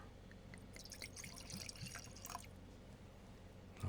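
Super dry sake from Yamagata being poured into a glass, a soft faint trickle with small drips in a quiet room.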